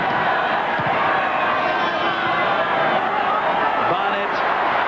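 Rugby league crowd at a New Zealand vs Great Britain test match in 1996, a loud continuous roar of cheering and shouting from a large stadium audience, rising slightly with excitement.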